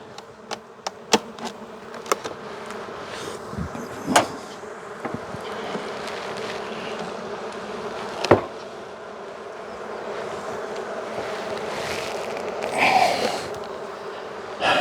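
Honey bees buzz in a dense continuous drone around an opened hive in early September, with scattered clicks and knocks of wooden hive boxes being handled nearby.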